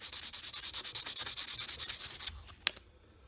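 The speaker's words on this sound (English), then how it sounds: "You don't need to rub the thing down too much." Rapid, rhythmic rubbing strokes of abrasive across a waggler float body to dull its shine, about twenty close, even passes that stop abruptly, followed by a couple of light knocks and quiet handling.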